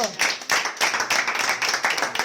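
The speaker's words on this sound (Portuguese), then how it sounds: "Vamos aplaudir o Senhor." A small group of people clapping together in a home gathering, brisk and close, steady rhythmic claps filling the whole stretch without talk.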